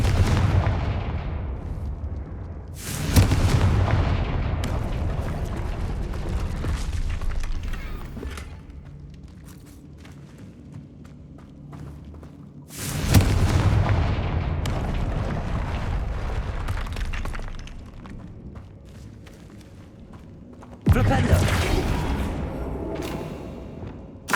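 Fiery explosion spells boom in the Hogwarts Legacy video game: three loud, deep blasts a few seconds apart, each with a long rumbling decay, with no speech.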